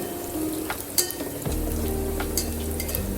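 A dish fries in a pan on a home stove, with a close, continuous sizzle broken by a few stirring clinks and a sharper burst of crackling partway through.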